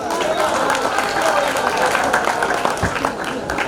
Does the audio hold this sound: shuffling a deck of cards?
no